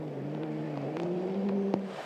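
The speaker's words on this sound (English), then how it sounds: "Middleton needs to slide the car in the mud." A rally SUV's engine revs as it slides through mud on a gravel stage of an Australian Rally Championship round, the steady engine tone climbing slightly in pitch, with a brief sharp knock near the end.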